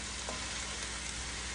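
Meat frying in a pan for a Chinese-style macaroni dish, a steady, even sizzle held close and fairly quiet throughout, with no voices.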